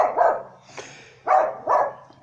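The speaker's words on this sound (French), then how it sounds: "Ah, le gros chien là." A large dog barks three or four times in quick, uneven succession, close and fairly loud, with brief whimpering gaps between the barks.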